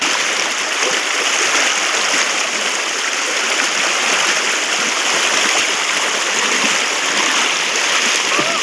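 River water rushes and splashes steadily while people bathe outdoors, a constant loud wash of flowing water close by with no clear talking.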